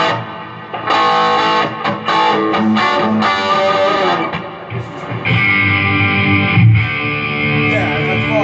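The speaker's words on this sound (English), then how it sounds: "If you're going to distortion, do you like the distortion channel?" Electric guitar played through the distortion channel of a Marshall MG 15-watt amp, a fuzzy, saturated run of chords and single notes with brief gaps, then a sustained ringing passage, no voices.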